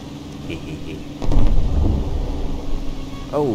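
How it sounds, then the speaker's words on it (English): A deep, rumbling explosion swells up and rolls on for a couple of seconds over a low background, with a brief tonal sweep near the end, in War Thunder naval gameplay. "I like how I could actually hear that explosion properly."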